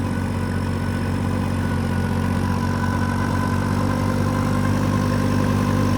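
A Massey 9500 4WD tractor runs at full RPM while driving a super seeder, a loud, steady diesel drone with a strong low rumble that holds constant throughout, with no talking.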